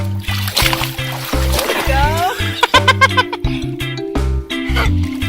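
A child splashes in a swimming pool during a first swimming lesson, with repeated close water splashes and sloshing under near-constant talk from an adult and child over a steady musical backing.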